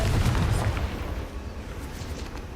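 Confringo blasting spell erupting in Hogwarts Legacy, a loud booming burst up front that rolls off into crackling, fading debris noise.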